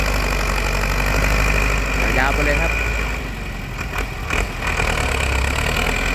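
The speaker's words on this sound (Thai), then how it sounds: "อันนี้เป็นรถไถฟอร์ดนะครับ" A Ford tractor engine runs with a steady, low rumbling idle close by while someone talks over it, during levelling of a rice field.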